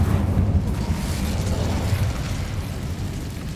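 A fire spell cast in the Hogwarts Legacy video game: a loud, sustained roaring burst of flame with a booming low rumble that holds steady for several seconds, with no talk over it.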